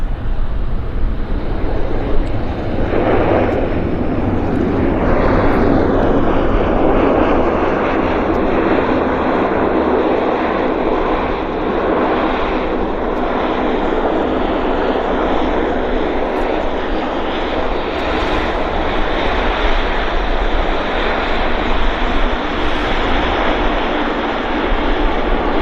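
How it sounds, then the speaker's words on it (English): Loud, sustained roar of a Q400 turboprop airliner at Vancouver airport, its engine drone and propeller whine filling the air steadily for over twenty seconds at close range, with no talk. "Q400."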